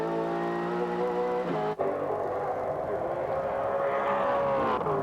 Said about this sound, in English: And listen to Neil's engine there